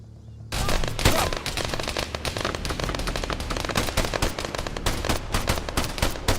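Machine gun fire in ArmA 3 rattles in sustained rapid bursts that erupt after a short lull, loud and close, with rounds cracking densely and steadily under occasional shouted voices.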